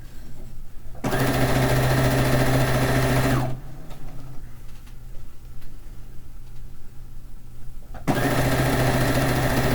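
A sewing machine stitches pieces of a fish quilt in loud steady runs, pausing for a few seconds of quieter room noise midway before starting up again.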